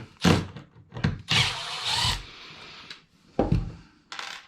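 A power drill backs a screw out of wood in several short, loud bursts of whirring, separated by brief pauses, close up with no voices.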